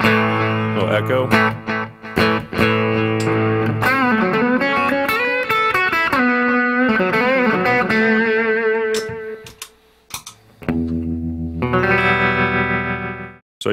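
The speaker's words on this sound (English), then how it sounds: "A little echo." An electric guitar played through a P3 echo pedal gives loud, close chords and sliding melodic notes, each trailed by repeating echoes and reverb, with a short pause before a final strummed chord.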